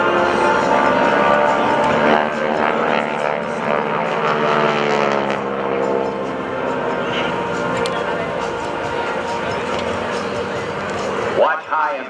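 Propeller aircraft of the Caveman Flight at an airshow, a steady loud engine drone with a slowly shifting pitch that holds for the whole stretch, ending in a brief bump near the close.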